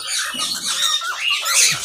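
Conure parrot chicks squawking while being hand-fed, a continuous run of raspy, shrill squawks close by, with no talking over them.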